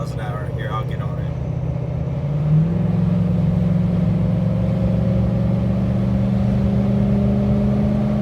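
A heavy Ford F250 pickup truck accelerates hard on the road at highway speed. The engine drone is loud and steady, and its pitch steps up partway through as the truck pulls harder.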